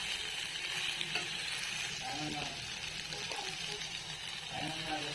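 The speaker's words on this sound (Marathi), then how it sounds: "हे सगळे मसाले आपण भाजून घेऊया कांदा टाकलाय तर आपण भाजायला कांदा चांगला भाजून घ्यायचा" Onion and whole spices fry in a pan for a masala, a dense continuous sizzle with stirring scrapes and clinks throughout, close and steady.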